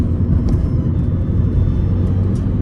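A 2008 Kia Ceed LS estate builds speed on the road: a continuous low engine rumble mixed with road noise, steady and close inside the cabin, with no talk.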